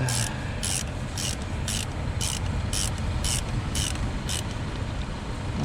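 A ratcheting tool loosens the fasteners of the air filter on a Tesla Model S, giving a steady close mechanical whir broken by about ten evenly spaced bright clicking bursts.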